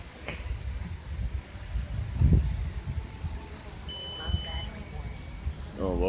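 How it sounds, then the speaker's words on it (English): A drone's low battery warning sounds as a short steady electronic tone over wind noise at a shore boat fire scene, followed by a brief chirping sequence, with people talking nearby. "Oh, low battery warning."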